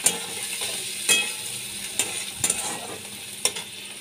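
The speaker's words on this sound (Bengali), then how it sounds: "পেঁয়াজটা আমি ভালো করে ভেজে নিচ্ছি" Onion fries in oil with whole garam masala and dried chili for a prawn curry, a soft continuous sizzle broken by several sharp spatula scrapes and clacks against the pan.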